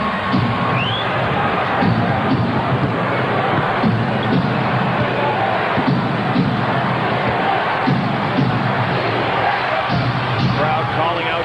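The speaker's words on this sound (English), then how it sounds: "Crowd calling out for the defense." Dense, continuous roar of a basketball arena crowd, loud and sustained, chanting and shouting for defense late in a close Bulls at Raptors game, with a faint broadcast voice underneath.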